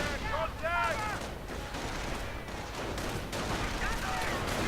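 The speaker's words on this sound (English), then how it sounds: "riflemen fighting airborne, firing up" Rifle gunfire crackles in a Company of Heroes battle as riflemen fight airborne troops, a fairly quiet run of scattered shots under game sounds and a commentator talking.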